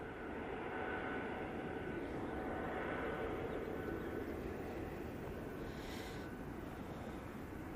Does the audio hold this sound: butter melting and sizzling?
no